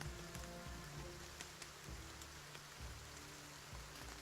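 Steady rain pattering in the video game Battle Brothers, a constant wash of falling drops with occasional low thuds from in-game effects, no talking.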